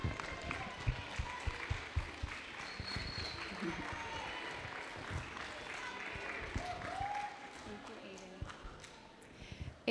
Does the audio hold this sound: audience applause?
yes